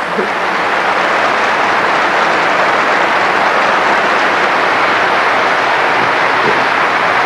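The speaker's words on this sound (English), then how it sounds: "Look at them applaud." Loud, sustained applause from a large arena crowd at a 1982 figure skating exhibition in China, a thick, even roar of many hands clapping that holds steady without a break and without talk.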